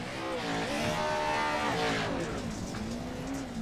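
A Pro Lite race car engine in a racing video game howls through a qualifying lap at Wild West, a steady loud drone with pitch climbing and dipping through gear changes, tire noise mixed in, no voices.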